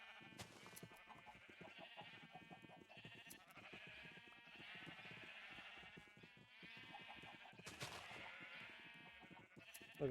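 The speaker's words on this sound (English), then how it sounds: "Look at the sheep graze." Sheep bleating in the video game Minecraft, several overlapping bleats in a steady stream at low level, with no talking.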